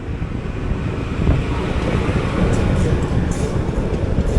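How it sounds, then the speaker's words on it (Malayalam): The Coimbatore–Kannur Express arriving at a station: a continuous, loud, broad rumble and rushing noise close by, with faint wind buffeting and no clear speech. "കോയമ്പത്തൂർ കണ്ണൂർ എക്സ്പ്രസ് ആണ്."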